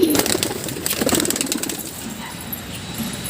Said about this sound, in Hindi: तो दोस्तों ये नर कबूतर है